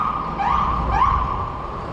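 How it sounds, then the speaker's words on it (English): An ambulance siren wails through New York City street traffic during a bike ride, sweeping up in pitch twice in steady repeating cycles over a constant background rumble of traffic. "there's like an ambulance back there. It's just going to keep making noise"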